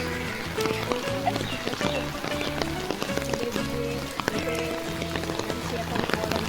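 Steady rain patters on surfaces outdoors near a pond among greenery, a dense, even hiss with scattered drops, and people talk over it.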